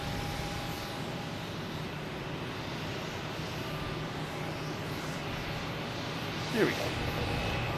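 A United Airlines Boeing 737-800 takes off at Boston Logan Airport. Its engine produces a broad, steady roar of moderate loudness, and a person speaks briefly over it.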